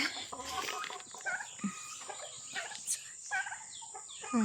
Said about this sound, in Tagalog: So, yan na yung mga manok natin, no. Naghihintay na ng food.